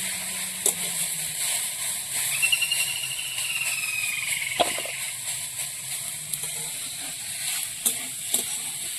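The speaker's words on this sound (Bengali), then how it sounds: "কচুতে কড়মড় করে আওয়াজ হচ্ছে" Taro leaves frying in oil give a steady sizzle broken by scattered sharp crackles and a few utensil clicks, close by and without any voices.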